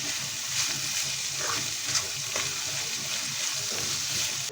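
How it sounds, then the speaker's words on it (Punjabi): Chopped onions frying in a pan for stuffed bitter gourd, a steady close sizzle with faint stirring scrapes throughout, no talking. "ਪਿਆਜ਼ ਨੂੰ ਆਪਾਂ ਇੰਨਾ ਕਿ ਭੁੰਨਾਂਗੇ"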